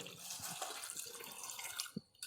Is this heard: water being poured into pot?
yes